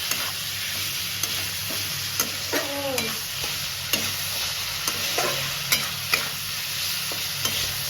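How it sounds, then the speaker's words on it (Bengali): Onions sizzle steadily in a hot pan for Bengali prawn posto, with a spatula tapping and scraping the pan at regular intervals. "পেঁয়াজটা একটু ভেজে নেব।"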